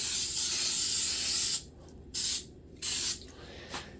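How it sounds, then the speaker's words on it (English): Non-stick cooking spray hissing from a can into a baking pan: one long spray followed by two shorter bursts and a faint final puff, close and loud. "with some non-stick cooking spray"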